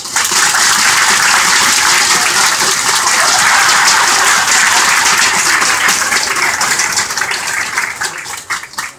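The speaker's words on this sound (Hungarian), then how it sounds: "Egy óriási tapsot szeretnék kérni először is a felső ösvényen Vaziernek." A huge arena audience at a Hungarian League of Legends esports final bursts into dense, sustained applause, a loud continuous roar of clapping that fills the space and eases off slightly near the end.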